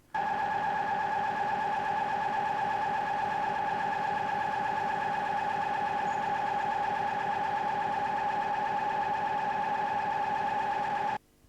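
An Atkinson cycle engine with a simple carburettor runs on a test rig, giving a steady, even drone with a strong hum and a faint rapid pulsing, unchanging for about eleven seconds before it cuts off.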